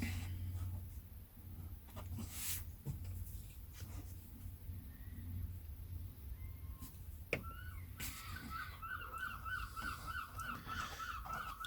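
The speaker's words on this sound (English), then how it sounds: "As you can hear, the seagulls are in the garden." Seagulls call from overhead above a garden, distant, faint honking cries that grow into a run of repeated calls toward the end over a low background rumble.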